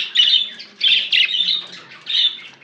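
A pet mango parrot squawks in a home aviary, giving four or five harsh, close bursts in an uneven rhythm with short gaps between calls.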